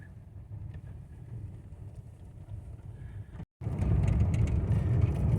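A vehicle rolls along a three-mile dirt ranch road toward a petrified wood dig site in Arizona, a steady low engine and tyre rumble that grows louder and rougher partway through.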